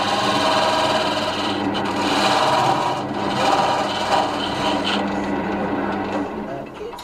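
Chisel cutting wood on a woodturning lathe, a loud continuous rough scraping whir with a steady motor hum, with someone speaking over it.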